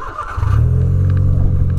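VW Polo fitted with a sport exhaust, its engine revving up hard from a lower idle into a loud, close, deep growl that holds steady to the end.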